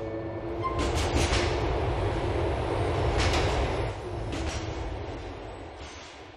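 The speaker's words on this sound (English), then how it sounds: "This is the C train." A C train in GTA4 rolls through Liberty City with a steady rumble and rattling wheels. The noise swells twice and then eases slightly, and no voice is heard.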